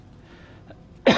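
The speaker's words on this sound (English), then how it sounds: "I try not to cough too much." A single sharp cough bursts out close to the microphone at the end, preceded by quiet room tone and a faint breathy sound.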